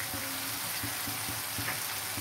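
Chicken filling with soy sauce and tomato sauce frying in a pan for mini chicken rolls: a dense, steady sizzle close by, broken by soft stirring thumps, with no one talking.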